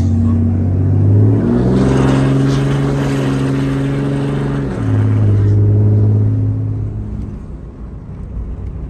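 An old car with a loud, noisy exhaust rumbles and revs close by, its engine note stepping up and down in pitch before fading toward the end.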